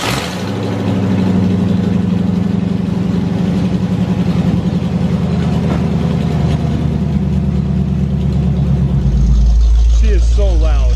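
Open headers on a 1985 C4 Corvette rumble loudly at a steady, lumpy idle, then swell into a deeper, heavier roar near the end.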